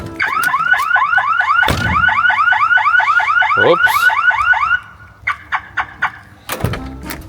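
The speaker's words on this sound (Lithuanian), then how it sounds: "Veikia signalizacija." A car alarm blares loudly nearby in a fast repeating warble, then switches to a series of short sharp chirps, with a thud and a brief spoken exclamation in between.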